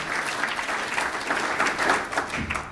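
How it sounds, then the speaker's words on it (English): A round of applause for a colleague's promotion at a finance budget breakfast briefing, steady and sustained crowd clapping that stays level for a few seconds before easing off at the end. "I'd give Peter a round of applause for his recent promotion"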